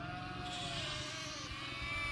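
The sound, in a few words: sheep and lambs bleating during a drive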